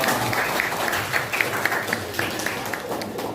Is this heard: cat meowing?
no